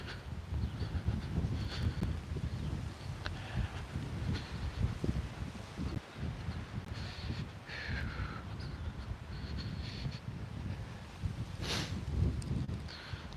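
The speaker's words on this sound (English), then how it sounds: "It's still windy, my goodness." Wind buffets steadily with a low rumble during a morning walk outdoors, gusting and rustling, with a faint whistling note drifting in and out.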